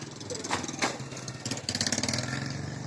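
Motorcycle engines in a motorcycle parking lot, a close, putt-putting idle that grows into a faster, rhythmic chugging, with faint talk nearby.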